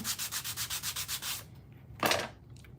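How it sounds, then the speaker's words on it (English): The back of a glitter craft piece is sanded by hand in a quick, even rhythm of about a dozen close, raspy strokes, then a pause and one last longer scrape. "So we sanded the back."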